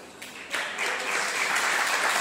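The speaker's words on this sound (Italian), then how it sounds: "Quindi mi raccomando, calorosi applausi." Audience applause at a school music recital, a steady wash of many hands clapping that swells around half a second in and then holds full and even to the end, with no voices over it.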